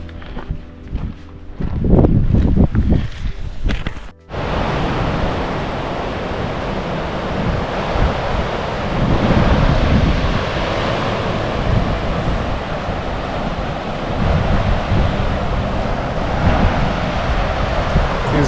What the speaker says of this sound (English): There was a mild breeze, because of which it was like getting pretty cold.